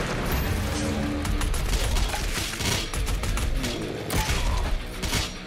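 Dense, continuous gunfire from enemies in the video game Doom Eternal, loud sustained bursts overlapping with booms and mechanical clatter throughout.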